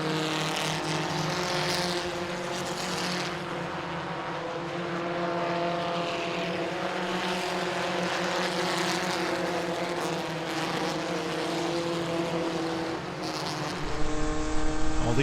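UCAR race cars circling Langley Speedway on a Saturday night, a continuous loud engine roar from the pack that swells slightly near the end, heard alone without talk.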